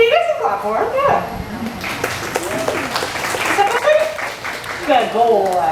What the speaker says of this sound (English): Here, you guys can clap for him.